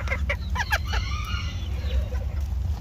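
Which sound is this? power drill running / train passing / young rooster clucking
young rooster clucking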